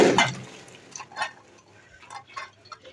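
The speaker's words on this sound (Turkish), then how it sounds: "Fasulyelerimizi hiç bekletmeden suyunu süzelim." Water drains from a pot of boiled beans, heard as a short splash followed by faint trickling and intermittent drips, quiet and close.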